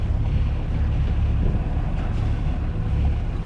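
Steady low drone of a sailboat engine leaving harbor in the Swedish archipelago, heavily mixed with wind buffeting the microphone and water, continuous and loud, with no talk.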